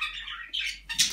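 Pet birds kept indoors at home give a short burst of bright chirps in quick succession, close and moderately loud with no talk.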